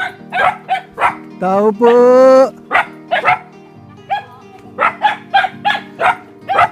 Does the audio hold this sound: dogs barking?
yes